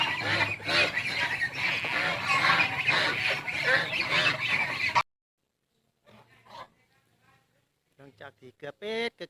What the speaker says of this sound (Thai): ทางด้านหลังก็คือคอกเป็ดของบัจิต